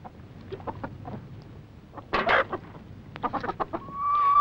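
A starling mimicking nearby farmyard hens: a sequence of short clucking and cackling calls, fairly close and moderately loud, ending in a sustained whistled note.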